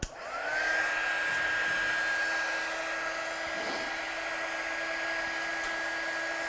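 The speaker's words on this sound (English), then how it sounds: "So I'm getting my gun as hot as possible." A heat gun run at its hottest setting heat-sets embossing powder on card, giving a loud, steady blowing whir with a fan tone that holds unbroken from start to finish, with no talk.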